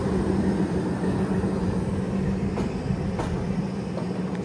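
The Visakhapatnam Weekly SF Express, just pulled out of Chennai Central, runs with a steady, loud rumble and rolling drone throughout, with faint clicks passing over the continuous noise.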